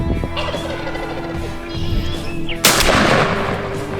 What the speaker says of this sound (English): hearing that turkey gobble on the intro gets me fired up